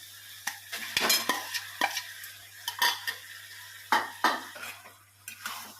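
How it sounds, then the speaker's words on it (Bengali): Boiled potato being stirred into cooked vegetables in a pan, a spoon scraping and clinking against the metal in a run of separate strokes, fairly close and moderately loud, with a steady low hum underneath. "এই যে আলুটা এরকমভাবে সবজির সাথে পুরো মিক্সড করে নিতে হবে"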